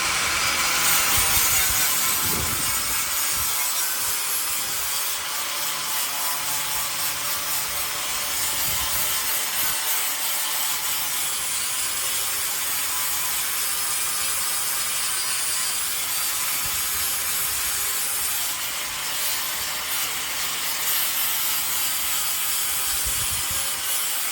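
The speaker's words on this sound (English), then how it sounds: "hit it with that wire wheel and knock off the loose rust" Wire wheel scrubbing loose rust off steel on a car hauler trailer build, a harsh continuous abrasive whir with shifting rubbing bursts as pressure changes, close and loud.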